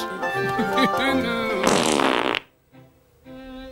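A rabbit fart sound effect, a burst of buzzy, sputtering noise that swells loud for under a second before cutting off, preceded by someone talking and followed by quieter speech.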